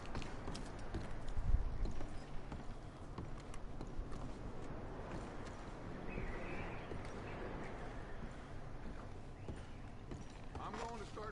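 Horse hooves clip-clop steadily over ground in Red Dead Redemption 2, a continuous moderate trot under game ambience with occasional bird calls and a voice talking over it.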